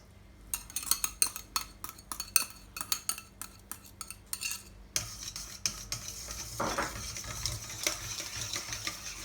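A spoon stirs yeast, milk and cream in a mixing bowl for Hokkaido milk loaf dough, giving a quick series of close, sharp clinks and scrapes that shift into a steadier, softer swishing stir.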